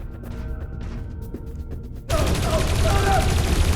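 Gunfire in the video game Dreamfall Chapters erupts suddenly after about two seconds of quiet, humming ambience. A loud, sustained burst of shots fills the rest of the moment.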